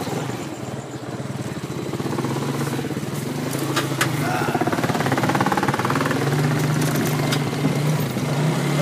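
A motorcycle engine idles and runs close by with a rough, pulsing drone that grows slightly louder after the first couple of seconds, and faint voices sit underneath.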